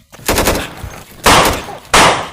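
Three loud bursts of rapid gunfire, each a rattling volley cut off by short pauses, close and harsh.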